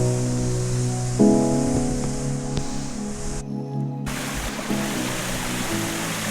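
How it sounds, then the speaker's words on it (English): Small stream in the Tauwharenikau River Valley flowing over rocks, a constant close wash of water with a brief gap, while a low tonal hum comes and goes underneath. "Beautiful streams that we have to cross"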